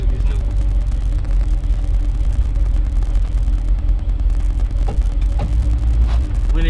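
A 1983 Chevrolet C10 truck on the road, a loud steady engine rumble and road drone filling the cab throughout, with faint rattles now and then.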